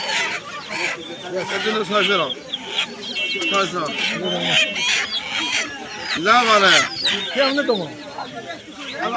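Chickens at a busy desi chicken market, clucking and squawking repeatedly at close range while several people talk loudly and haggle over them.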